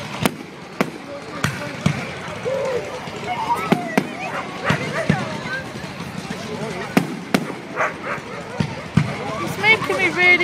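A dog barks amid loud Bonfire Night fireworks at a Nottingham recreation ground, with sharp cracks and bangs spaced irregularly through the clip under steady crowd chatter and nearby voices.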